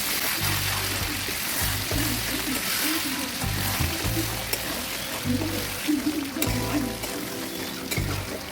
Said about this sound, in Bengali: আমার মাংসটা প্রায় কষানো হয়ে আসছে। আবার একটু নেড়ে চেড়ে দিচ্ছি।